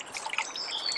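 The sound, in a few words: trickling water in a river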